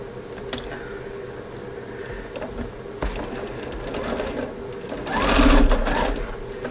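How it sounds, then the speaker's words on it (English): A sewing machine stitches quilt rows together in bursts, needle ticking rapidly and close, then speeding into a louder whirring run near the end, with no talking over it. "now I'm going to sew row 5 and 6 together."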